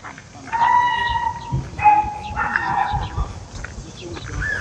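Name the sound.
dog barking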